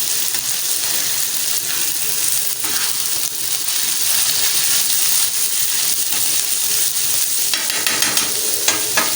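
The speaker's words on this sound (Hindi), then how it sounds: "इसको भी रोस्ट करना है ऐसे जैसे प्याज की है।" Chicken liver and gizzards roasting in a pan, a steady broadband frying sizzle with scraping stir strokes throughout, fairly loud and close, no talking.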